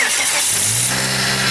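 Car engine in a high school auto shop class cranking and catching, then running with a steady loud drone close by; no voices.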